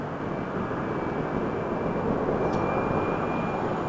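A WestJet Boeing 737-800 jet bound for Calgary roars steadily and loud, a continuous broadband engine rush with a thin high whine running through it, no voices present.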